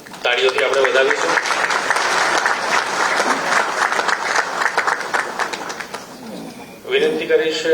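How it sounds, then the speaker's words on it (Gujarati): Loud, sustained applause from an audience at a Gujarat Police crime conference in Gandhinagar, dense clapping running steadily for several seconds, with a brief voice over an announcer's microphone at the start and end. "તાળીઓથી આપણે વધાવીશું"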